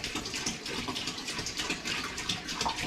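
Tap water pouring into a brew pot while preparing a blueberry honey ale, a steady hissing splash with no voices.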